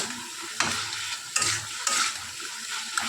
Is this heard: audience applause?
no